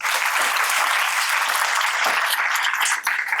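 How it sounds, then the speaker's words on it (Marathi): A classroom of students applauding, a dense continuous round of clapping that stays loud and even for the whole stretch, with no voices over it. "तिच्यासाठी जोरदार टाळ्या"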